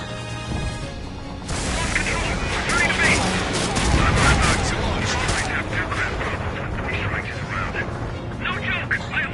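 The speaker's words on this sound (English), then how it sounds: "Launch our anti-air fire attack." Anti-air guns fire in Ace Combat 7 as a loud, dense, continuous barrage of rapid bursts and cracks that runs for several seconds, with voices talking over it.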